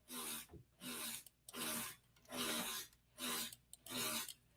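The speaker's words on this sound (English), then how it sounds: "Chipping hammers." A neighbor's chipping hammers rattle in six regular bursts, each lasting under a second with short pauses between them, heard faintly from a distance.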